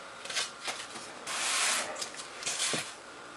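An acetate smoother rubs back and forth over a fondant-covered cake, making faint, close, papery swishing strokes in short bursts with one longer sweep in the middle, and no talking.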